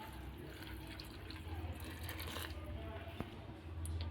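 Water poured into a pot of sprouted beans with salt and turmeric before boiling: a faint, short splashing trickle under low room noise.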